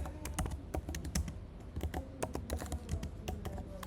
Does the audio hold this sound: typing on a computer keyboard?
yes